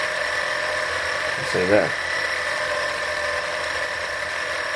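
Blade 350QX quadcopter motors run on a small seismic table, giving a steady, close, high-pitched electric whine with layered harmonic tones throughout, as someone briefly speaks midway.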